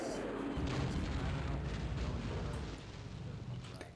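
Explosions in the Half-Life: Source first-person shooter, a heavy, rumbling blast that fills the clip at loud, sustained level and slowly tails off, with no voices over it.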